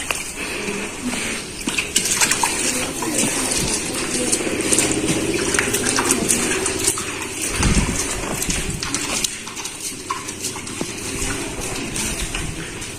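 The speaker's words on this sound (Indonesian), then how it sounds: "Ini juga kita siram sebelum nanti kita campurkan." Organic fertilizer materials being watered before mixing for solid compost, a steady splashing spray running throughout with bird calls, likely doves, and outdoor background noise.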